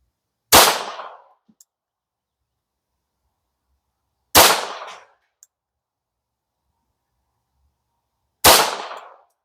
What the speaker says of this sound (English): So here we go. Definitely a difference in the recoil impulse.